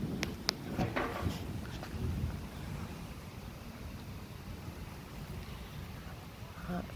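Storm wind blows hard around a porch, a continuous low rushing roar with gusty buffeting against the microphone and a few scattered knocks and rattles early on, steady to the end.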